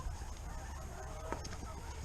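Ducks squawk and quack faintly while being fed during morning farm chores, among other farmyard fowl, with a brief sharper call partway through against a steady background hiss.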